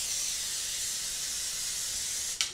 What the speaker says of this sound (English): I'm just gonna take some cooking spray and spray the bottom and the top of my waffle iron here.